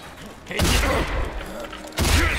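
Heavy bursts of gunfire in a first-person shooter game, two loud sustained volleys separated by a short pause, close and dominant with no talk over them.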